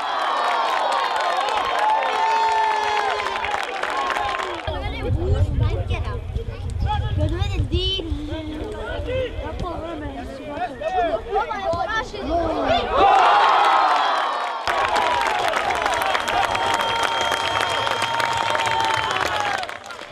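Home football fans, around 500 of them, cheering and applauding in a stadium after a goal in a league match, the crowd swelling and fading while a commentator talks over it.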